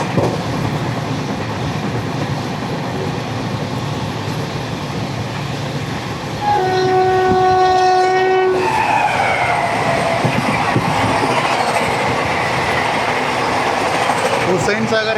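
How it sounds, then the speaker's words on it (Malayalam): The Mumbai CSMT–Hyderabad Hussain Sagar Express rushes past at close range near Kalaburagi, its steady rumble and clatter joined midway by a loud horn, heard from aboard another moving train. "Mumbai CSMT Hyderabad Hussain Sagar express"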